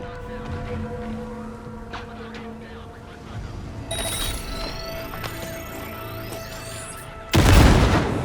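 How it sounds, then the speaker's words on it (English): A grenade detonates in the video game Cyberpunk 2077 as a sudden loud, deep blast near the end, following several seconds of steady game ambience and faint whirring. "Detonate grenade."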